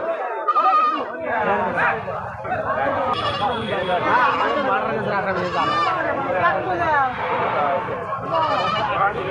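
Several goats bleat repeatedly at a busy rural goat market in Koyra, with overlapping calls near and far over a constant murmur of people chatting.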